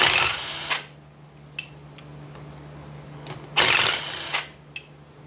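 An impact wrench breaks loose tight Allen bolts on the flywheel of a Honda TRX400ex ATV, with two loud buzzing bursts of about a second each. Faint clicks and quiet workshop hiss fill the gaps between them.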